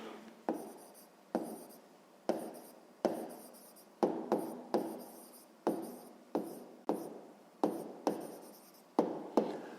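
Handwriting on paper during a sixth-grade maths lesson: a dozen or so short, distinct pen strokes, each a quick scratch that fades off, spaced about every half second to a second, close and clear with no talk.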